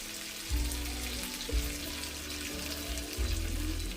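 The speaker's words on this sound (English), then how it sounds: "I'm just going to put that now back down on the simmer" Curried mince in a pan on the hob, set back down to simmer on very low heat: a steady soft bubbling sizzle throughout, with a few low knocks and bumps of the pan, no voices.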